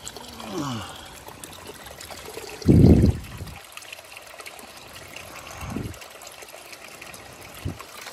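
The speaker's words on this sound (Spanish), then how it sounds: "Agua del nacimiento." Spring water trickling from a mountain source in Guatemala, a quiet steady flow with a brief louder splash near the middle and faint rustling around it.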